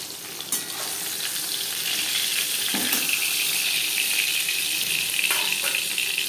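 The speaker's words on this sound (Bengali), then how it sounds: "মাছ ভাজা হয়ে গেছে" Steady sizzling of bata fish frying in hot mustard oil, a continuous crackling hiss with a few brief clinks and scrapes, close by and with no talking.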